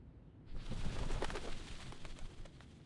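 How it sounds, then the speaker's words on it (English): Doves cooing at the Whitestone House in the video game Reverse 1999, soft repeated coos set over a dense, steady ambient background with no talking. "The doves of the Whitestone House are here."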